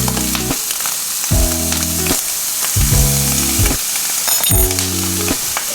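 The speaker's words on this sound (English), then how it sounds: "I'm going to also fry up a banana with this guy" A banana fries in a pan, loud close sizzling that swells and fades in repeated bursts, with a low rhythmic crackle and occasional stirring, no voices.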